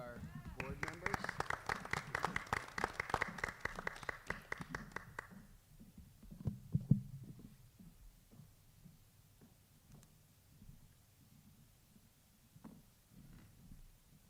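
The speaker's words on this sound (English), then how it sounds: "Be a round of applause for our board members" Members at a Clarence Board of Education meeting applaud the board members, a short burst of clapping that stops abruptly after about five seconds, followed by faint room noise, scattered taps and a little distant talk.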